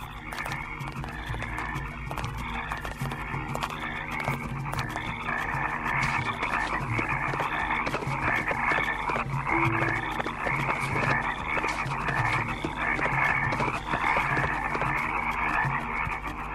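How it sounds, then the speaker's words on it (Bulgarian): A dense chorus of many frogs croaks continuously in a pulsing, overlapping rhythm, loud and close, filling a plague scene from a 1999 animated film about Moses. "Жаби, жаби и само жаби."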